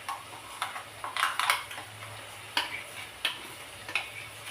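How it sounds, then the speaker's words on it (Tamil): Ground masala stirred with tamarind water and salt for instant kuzhambu: soft swishing of a spoon in liquid with sharp periodic clinks against the vessel, close and fairly quiet, no talk. "வெண்ண மாதிரி நம்ம இதில் போட்டு கலந்துக்கலாம்."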